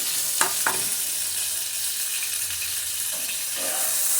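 Soybean chunks frying in hot oil in a pan for a pulao dish, a continuous close sizzling hiss with a few soft stirring knocks early on.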